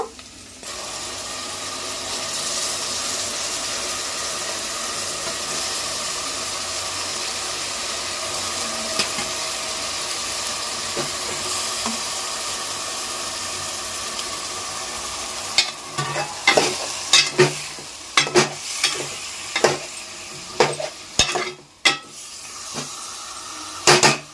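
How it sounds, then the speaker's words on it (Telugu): Chicken pieces sizzle and fry in a pan with browned onions and sesame seeds, a steady close hiss that gives way to scraping stirs and clattering knocks of a utensil against the pan in the last several seconds. "చికెన్ అయితే వేసేస్తాను ఇందులో"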